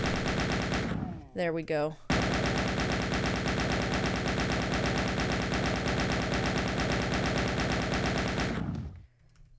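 Final Doom weapons fire in a rapid, continuous automatic burst lasting about seven seconds, loud and dense, after a brief stutter of shots; someone speaks briefly near the start.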